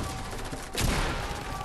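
Gunfire in the video game Fortnite, a dense, continuous burst of rapid shots heard loud and close, with a sharper, heavier blast near the middle.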